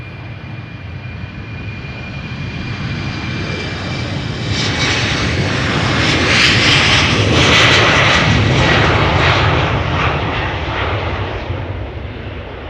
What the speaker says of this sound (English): So this is KLM flight 1773, Embraer 190, destination Frankfurt.